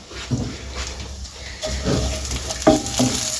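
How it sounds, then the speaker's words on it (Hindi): Onions and fenugreek leaves fry gently in a pan for samosa filling, giving a steady soft sizzle with occasional stirring scrapes and light utensil clinks against the pan, close and moderately loud. "इस प्याज को हमने हल्का सा फ्राई करना, हल्का से ज़्यादा नहीं, प्याज को इसको सिर्फ नरम करना।"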